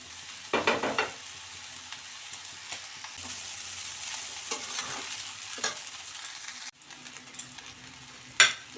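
Chowmein tossed with vegetables and chicken in a pan: a steady, moderate sizzle is broken by intermittent scraping and tossing strokes, with a sharp clatter near the end. No talking.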